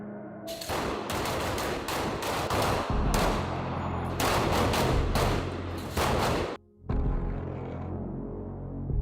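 Shotguns and handguns fire at a police academy training range, with dense overlapping volleys of loud blasts from several shooters, a brief lull, then further shots in the open air.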